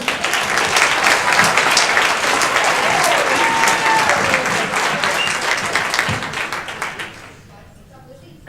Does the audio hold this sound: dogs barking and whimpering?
no